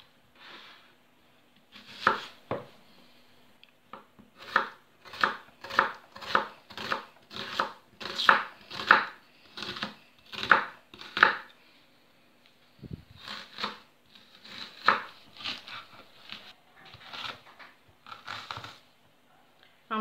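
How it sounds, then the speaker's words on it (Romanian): A knife chopping white onion on a board, brisk rhythmic cuts in bursts of sharp close taps with short pauses between runs, no talking. "Am tăiat și ceapa."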